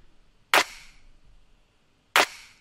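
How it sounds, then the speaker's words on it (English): Two snappy layered clap samples in a hip-hop beat, bright sharp cracks with short tails, spaced well apart over a faint low background. "I just layered two clap sounds,"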